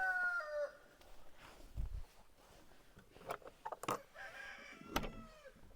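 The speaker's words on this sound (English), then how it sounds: "This is our other broody blue lace red Wyandotte hen here." A broody blue lace red Wyandotte hen and other chickens on a homestead at sunrise give soft clucks and murmurs, with a few sharper calls, faint and fairly close, among quiet outdoor ambience.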